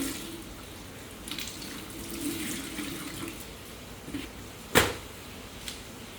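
Floodwater inside a flooded house, a low steady watery wash with faint sloshing and a few sharper splashes, including one louder splash near the end, with no talking.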